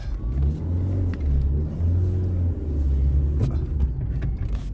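Fiat Punto petrol hatchback with 178,000 km pulling out, its engine giving a steady, close low rumble with mild revving swells and no talk.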